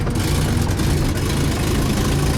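A VAZ 2107 car engine running while driving, heard as a loud, steady low rumble from close range that holds at an even level throughout.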